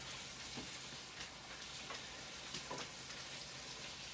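Bacon crackles and sizzles in a pan with a dense, even spatter of tiny pops, quiet and steady throughout, occasional brief clicks rising above the hiss.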